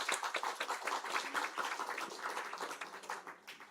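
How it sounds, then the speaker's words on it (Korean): A church congregation at a Sunday service applauds to welcome people, a soft, dense patter of many hands clapping at a distance for several seconds. "네, 우리 박수로 다 환영하시고요."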